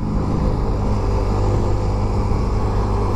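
A carbureted Suzuki Raider 150 motorcycle engine held in fourth gear, a loud steady droning hum with dense low rumble and no pauses, recorded close by.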